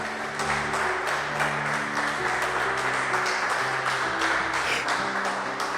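A church congregation applauds during a Portuguese-language worship service, a steady wash of clapping under sustained music with low held tones throughout.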